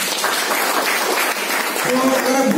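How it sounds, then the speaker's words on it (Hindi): Audience applause fills the hall at a book launch, a dense, loud, steady wash of clapping lasting a few seconds. "तो उनके लिए जोरदार तालियां हो"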